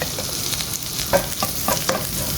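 Garlic sizzling in butter in a pan, a continuous crackling fry broken by several sharp spatula scrapes and stirs.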